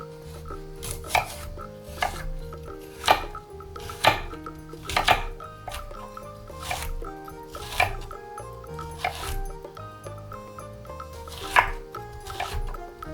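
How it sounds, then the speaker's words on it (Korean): A knife chops carrot into small pieces for a tofu stir-fry bibimbap, about a dozen crisp, evenly spaced chops on a cutting board, close and clear over soft background music. "당근도 작게 잘라주세요."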